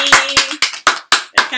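Group of people clapping for themselves during a live Yoruba lesson, six sharp bursts of hand claps in a steady rhythm, fairly close and loud.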